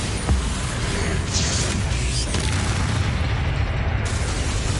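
A Bombarda spell explosion in the game Hogwarts Legacy, heard as a dense booming blast over continuous rumbling combat noise, fairly loud and without a clear break.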